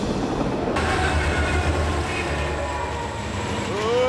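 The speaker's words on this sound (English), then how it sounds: "Oh, a train." A train rolls past in the open air with a loud, steady rumble and rushing wind-like roar, joined late by a rising metallic squeal of wheels.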